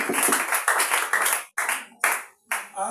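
A group of people claps in church during a dedication closing ceremony, loud close bursts of hand claps separated by brief pauses, with no talking.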